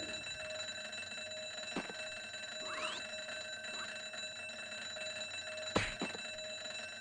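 Alarm bell in the Broken Sword: Shadow of the Templars video game, short ringing bursts sounding faintly over a steady hum of background game ambience and music.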